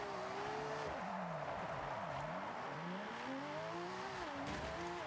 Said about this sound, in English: I'm gonna do a quick little drift.